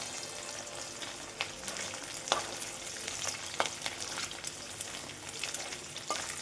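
Cut rohu fish pieces frying in a pan, a steady close sizzle with occasional sharper crackles and stirring clicks, no talking.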